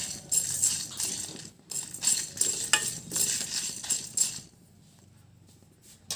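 Dried red chillies and peppercorns fry in a pan with a crackling sizzle and a spoon scraping and rattling against the metal in bursts, then everything drops to near quiet for the last two seconds.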